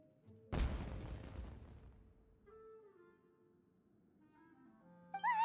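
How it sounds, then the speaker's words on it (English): A fireworks explosion in the video game Genshin Impact, one loud boom with a rumbling tail fading over about a second, followed by faint game tones and chimes. "Was that an explosion? It sounded like fireworks."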